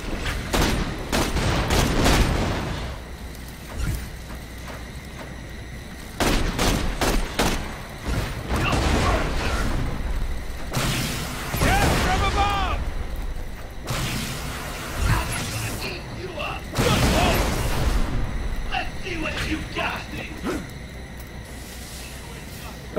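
Turret gunfire in the video game Borderlands: The Pre-Sequel, loud repeated bursts of rapid shots and booms in clusters across the stretch, with a player's voice talking over parts of it.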